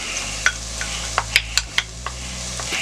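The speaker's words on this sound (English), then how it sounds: "I got a little bit of oil in here. We're gonna saute these onions down." Onions sautéing in a little oil on a steel griddle, a soft steady sizzle broken by a series of sharp metallic spatula scrapes and taps.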